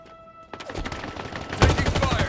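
Rapid gunfire in Halo Infinite on Xbox, a tight burst of automatic shots that starts abruptly and intensifies midway, loud and continuous over game ambience.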